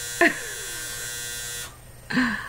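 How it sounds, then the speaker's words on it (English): A clothes dryer or washer buzzer goes off in two bursts, a longer sustained buzz followed by a second one after a short pause, heard indoors fairly close. "That's my dryer going off, sorry. Or my washer."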